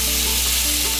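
Ghee heating in a wide pan gives off a dense, steady sizzle and crackle, close and loud, without pause.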